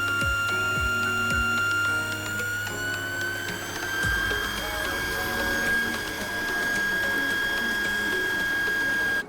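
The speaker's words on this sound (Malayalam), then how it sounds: "ബാക്ക് വാഷ് സ്റ്റാർട്ട് ചെയ്തു." An automatic whole-house iron and activated carbon filter valve starts a manual backwash, giving a steady, continuous mechanical whine with a sustained tonal hum. It is close and moderately loud and runs unbroken from start to finish.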